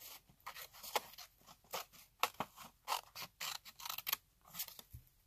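Scissors cutting paper out of a hardcover book being made into a junk journal, a series of crisp, close snips and slicing strokes in an irregular rhythm, with no talking.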